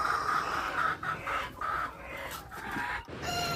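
Free-range village hens cluck and a rooster crows on a farm, with a steady chorus of fowl calls at moderate distance and no talk.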